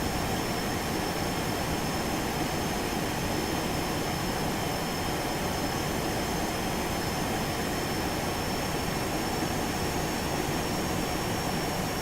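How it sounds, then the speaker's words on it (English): Continuous loud roar of Boeing 737-200 jet engines during flight in the X-Plane 11 simulator, a dense, even rush of noise with a thin high-pitched whine running through it and no talking. "I'm going to turn the volume up here just so you can hear those nice engines"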